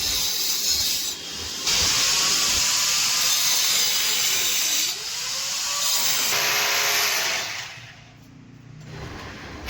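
An LPG gas pipe being cut to length during a kitchen-to-balcony gas line installation produces a loud, continuous hissing, grinding noise that shifts in intensity, pauses briefly near the end, then resumes.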